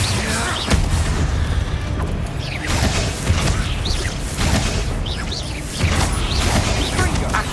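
Spell combat in Hogwarts Legacy with Incendio fire casts amid repeated loud booms, crashes and whooshing blasts, a steady barrage of impacts filling the whole stretch.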